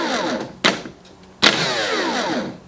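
A Dewalt 18-volt DC925 cordless drill with a suspected shorted switch runs its motor in two bursts, each a sharp whirring spin-up that winds down, the second run longer and lingering to the end.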